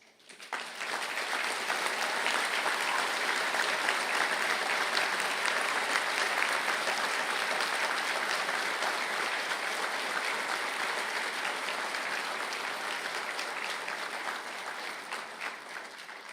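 A large audience at a university conferring ceremony applauds steadily for about fifteen seconds, a dense, even wash of clapping that slowly tapers near the end.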